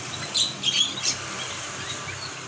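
A few sharp chirps from a sooty-headed bulbul sound close together early on, followed by quieter background ambience.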